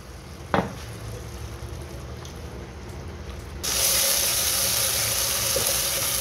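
Ground turmeric, cumin, coriander and red chili powder sizzle with water in a pan. A quiet start with a single clink gives way to a sudden, steady, loud hiss and spatter that lasts to the end.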